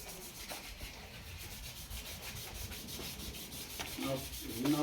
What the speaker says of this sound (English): Some sandpaper just to give it a bit of an abrasive surface.